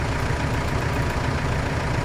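Tractor engine idling in Farming Simulator 25, a steady low rumble that holds at an even level throughout with no speech over it.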